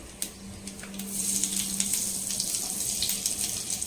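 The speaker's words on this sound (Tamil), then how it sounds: "கடுகு வந்து தாளிப்பு கொஞ்சம் போட்டுக்கலாம்" Mustard seeds and asafoetida hit hot oil for tempering while pickles are being made; after a few light taps, a bright crackling sizzle swells up and continues close and steady, with no talking.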